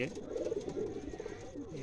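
Soft, throaty cooing of a pigeon close by in Sindh, Pakistan, repeated in low murmuring phrases, with a voice speaking Urdu faintly underneath.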